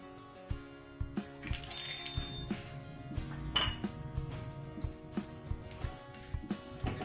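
Pistachio and almond slivers are stirred in ghee in a metal pan, with a spoon clinking and tapping against the pan in a loose, repeated rhythm over a low kitchen background.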